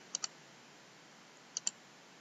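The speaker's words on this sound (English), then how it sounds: "Then we click forward 3 times" Mouse buttons clicked on a forward button, sharp and close: two quick clicks, a pause of over a second, then two more, over a faint quiet room hiss.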